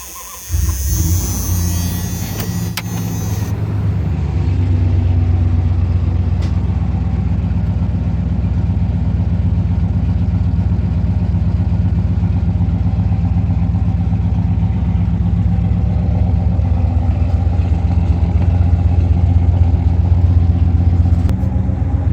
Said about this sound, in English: We're going to see about doing a cold start with the stock exhaust that's on it currently.